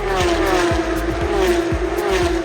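Identical Formula 1 race cars scream past in a rapid string of loud, high-pitched engine passes, each whine sweeping by in quick succession over a constant roar.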